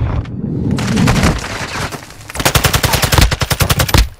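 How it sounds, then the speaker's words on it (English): Rapid automatic gunfire from a squad-based military video game, loud and close, with bursts growing denser and more rhythmic toward the end, layered over rumbling battle noise. "You are taking effective fire."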